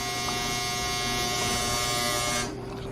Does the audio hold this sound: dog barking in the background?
no